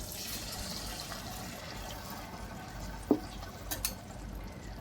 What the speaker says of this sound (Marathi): हे मिक्सरचं भांडं धुवून मी हे पाणी घालते